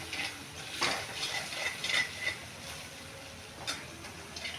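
Batter and masala being stirred and roasted in a pan, with soft scraping strokes and faint sizzling, several light spoon knocks against the pan, quiet and close.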